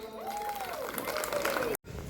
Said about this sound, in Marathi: एकदा कंटाळा आला असेल तर जोरदार टाळ्या वाजवा